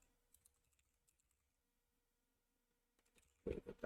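Quick keystrokes on a computer keyboard while writing C code, faint and sparse at first, then a louder close flurry of typing at the end.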